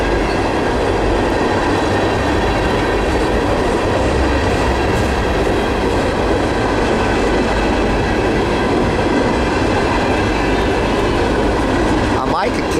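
A Norfolk Southern Herzog ballast train led by SD70ACe and AC44 locomotives rolls past at close range, a loud continuous roar of wheels and cars that holds steady throughout with no break.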